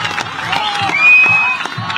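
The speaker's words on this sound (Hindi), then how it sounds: "जरा ताली बजा के स्वागत है।" A crowd at a political election rally in Jagannathpur, Jharkhand cheers and claps in a short burst, with scattered whoops and shouts rising briefly before settling.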